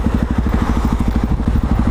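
A motorcycle rides through Dunstable, its engine close and loud in a steady, fast-pulsing low rumble with no talking.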